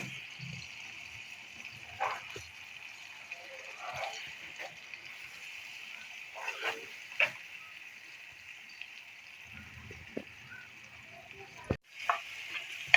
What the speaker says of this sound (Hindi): मिक्स करेंगे आस्ता आस्ता।